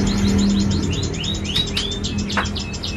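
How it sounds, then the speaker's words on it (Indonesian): A green leafbird chirps and whistles repeatedly in quick rising notes, fairly loud and close, over a steady low background hum. "Ini ya burung sultannya cuca hijau."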